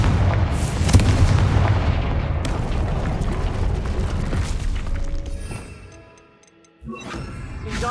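Blasting Confringo spell explosions from the video game Hogwarts Legacy land as heavy, rumbling booms in a continuous barrage. They fade briefly into near silence before another loud blast hits.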